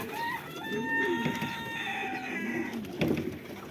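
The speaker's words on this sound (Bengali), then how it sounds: "মুরগিগুলা এখানে দেখেন মুরগি" Several chickens cluck and call on a farm, with a steady rooster-like call drawn out in the background and a busy, moderately loud flock throughout.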